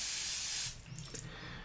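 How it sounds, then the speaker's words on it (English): A water spray bottle gives one long, loud hissing spray lasting over half a second and then stops, leaving quiet room noise and a faint rustle. "I got that water spray"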